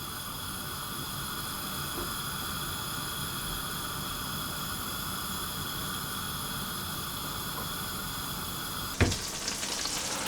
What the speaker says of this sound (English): with our butter sizzling